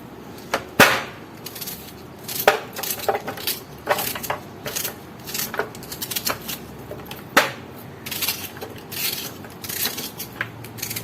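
Garlic being chopped with a knife in a home kitchen for a kofta recipe, a steady run of sharp, close knocks on a cutting board with uneven rhythm over the whole stretch, no talking.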